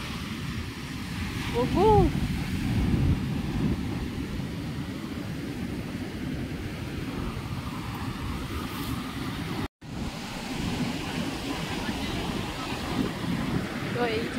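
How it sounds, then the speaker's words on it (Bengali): Sea waves and wind on the beach at Puri make a steady, broad roar with constant wind buffeting, while a person speaks briefly over it. "তো এখন আমরা আছি সমুদ্রের ধারে, হাওয়া দিচ্ছে আর ঢেউ দিচ্ছে"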